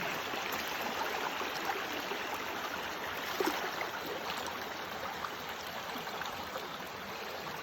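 Water flowing in a small stream beside a hiking trail on the Long Trail thru-hike: a steady, close, even rush and babble that runs unbroken with no voices.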